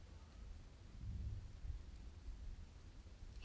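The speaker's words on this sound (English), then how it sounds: "I swear I hear thunder outside." Low, rolling thunder from a storm outside, a muffled rumble swelling in the middle and fading under steady background noise, with no voices.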